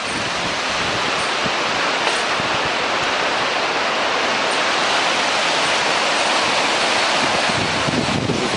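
Rushing water of the Tushai River flowing beneath the Yukon Suspension Bridge, a steady, loud, broadband roar that fills the whole stretch without pause, with some wind buffeting mixed in.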